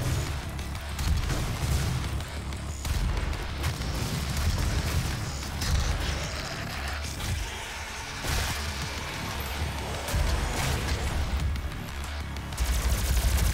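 Rapid plasma rifle fire in DOOM (2016) on a Mars mission level, a dense, continuous barrage of energy shots with booming impacts and battle noise, loud and steady throughout with no voices.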